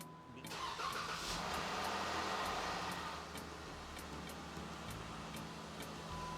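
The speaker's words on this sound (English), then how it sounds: "We're gonna start this car now, and it might sound funny in the beginning" A 2015 Jeep Pentastar V6 cranks and catches after a timing chain and rocker arm repair, a brief starter whir followed by a loud surge that settles into a steady, even idle close by.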